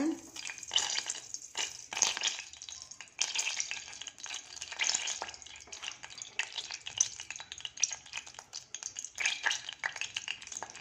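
Oil and ghee heat in a pressure cooker on a stove, whole spices added, crackling and popping in quick irregular bursts with light stirring scrapes.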